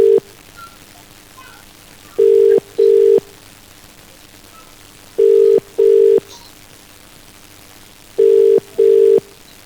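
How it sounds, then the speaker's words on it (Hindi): A telephone ringback tone sounds while a call is placed to a BJP legislator's phone: three paired beeps, steady and clear, come at regular intervals over a quiet line. "देखते हैं कि ये फोन उठा रहे हैं कि नहीं उठाते हैं"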